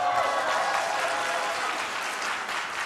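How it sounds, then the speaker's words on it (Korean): A church congregation at a next-generation worship service breaks into steady applause, a thick continuous wash of clapping with a faint voice underneath. "박수 주세요."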